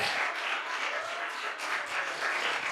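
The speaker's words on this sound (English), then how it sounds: "Come on, round of applause, continue." Sustained audience applause at an intern farewell award ceremony, a dense wash of clapping at moderate distance, steady and unbroken with no voices.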